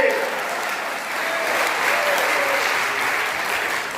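Audience applause at a Hindi poetry recital (kavi sammelan), a steady wash of clapping from a crowd, loud and continuous for several seconds.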